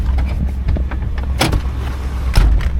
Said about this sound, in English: I don't think I shut this door all the way